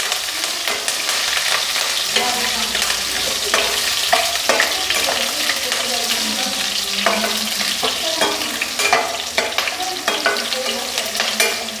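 Green chilies frying in a hot pan over high flame, with a continuous bright sizzle broken by repeated scraping strokes of a spoon stirring them, close and fairly loud with no talking.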